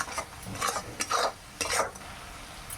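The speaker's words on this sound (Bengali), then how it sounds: "এবার আমি মশলাটাকে ভালো করে কষিয়ে নেব।" Spices for mango kasundi fish fry in a pan with mustard while being stirred, a soft sizzle under a few scraping strokes of a spoon against the pan, close and unaccompanied by speech.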